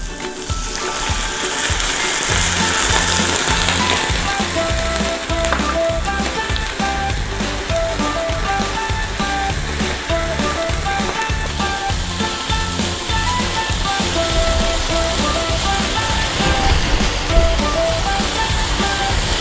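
Water poured into a pan of cooking tuna with green chili, a steady rushing, sizzling pour that runs loud and continuous throughout.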